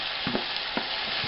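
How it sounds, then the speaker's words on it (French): Kraft Dinner noodles being stirred in a pot, a few soft wet slaps and scrapes over a steady sizzling hiss, close and brief, with no talking. "On brasse le tout."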